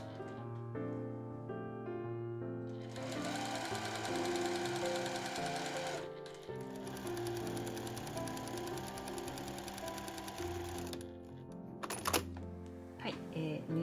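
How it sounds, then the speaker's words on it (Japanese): A sewing machine stitches the side seams of a camisole dress at a 7 mm seam allowance, running in a steady rapid whir that pauses briefly midway and resumes, ending with a few clicks. "それでは両脇が留められたところで7ミリで縫います。"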